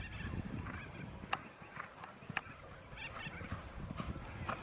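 Racehorses at a Grampians training stable, with faint hoof clip-clop and occasional neigh-like calls against a quiet outdoor background, no speech.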